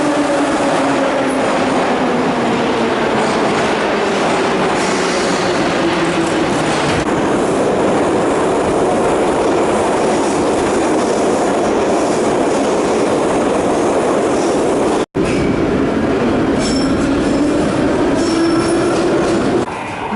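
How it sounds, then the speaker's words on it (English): A Saint Petersburg metro train rumbles steadily with rising and falling motor whine and wheels squealing on the rails, loud and close throughout. "Actually, my train is there."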